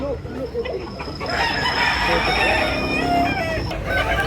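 A rooster crows loudly and close at a Sunday chicken market in Tabunok, Talisay, Cebu, one sustained crow over market chatter and other clucking fowl.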